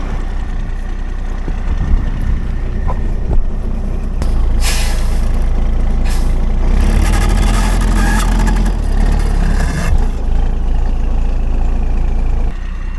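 A heavy 5-ton military truck engine runs loud and close, revving and straining for several seconds with rough mechanical noise as it tries to drive onto wood blocks, before settling back.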